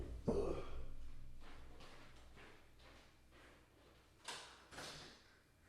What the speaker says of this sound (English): Oh, I should lock him out of the kitty door.